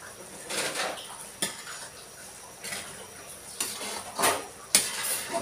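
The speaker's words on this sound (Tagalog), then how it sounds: "Continuous lang guys sa paghalo." Biko, Filipino sticky rice cake, stirred in a pan at home, with irregular scraping and clinking of a utensil against the pan, several sharper knocks among softer rubbing, close and moderately loud with no talk.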